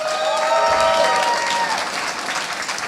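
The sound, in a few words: audience applause for team walking on stage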